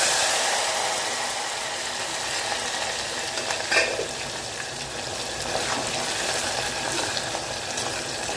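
Garlic and onions sautéing in a clay pot, a steady broadband hiss and sizzle that runs without a break, with a few faint stirring scrapes, close and moderately loud, no talking.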